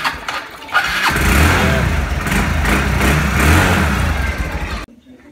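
A motorbike engine starts up and settles into a loud, steady running rumble with slight revving for several seconds, then cuts off abruptly into near silence.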